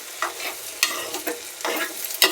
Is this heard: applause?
no